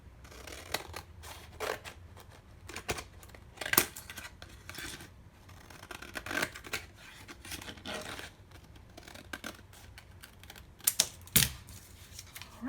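Scissors cut through a paper folder for a planner in crisp, close snips and slicing strokes. The bursts come unevenly, with a few sharper cuts and rustles of paper between them and no talking.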